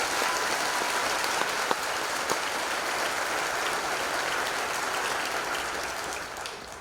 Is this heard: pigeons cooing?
no